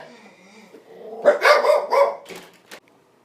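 A pet dog barks in a burst of several loud, close barks indoors, grouped in a tight run over about a second and a half before it goes quiet.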